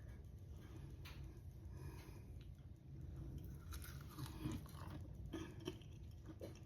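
Crunchy bites and chewing of cornmeal-battered crispy onion petals, faint, close crunches scattered through a quiet room with no talk.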